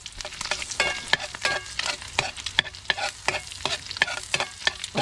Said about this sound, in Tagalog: Diretso gisa na po yan.